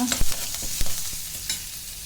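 Mustard seeds spluttering in hot oil with asafoetida and curry leaves in a pan, a soft steady sizzle broken by a few sharp pops and spoon clicks, close and fairly quiet.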